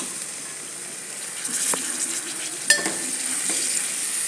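Finely chopped ponnaganti greens fry in oil with ginger paste and turmeric, making a continuous close sizzle with a few scraping stirs and one sharper clank of a utensil.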